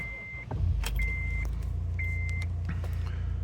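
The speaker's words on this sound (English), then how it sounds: "we'll just start the car to begin with" A 2013 Honda Accord 2.2 i-DTEC diesel estate starting up, a short crank catching into a steady low idle with repeated dash chime beeps sounding over it.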